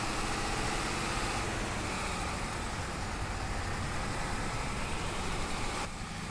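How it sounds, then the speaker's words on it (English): A loud, rowdy heavy truck engine from Farming Simulator 22, on a sturdy truck built for Siberian terrain, drones steadily and close at a rough idle, a constant low rumble with no voices over it. "Boy, it's a loud, rowdy truck,"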